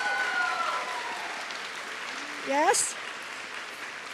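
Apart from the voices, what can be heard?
audience applause at a commencement ceremony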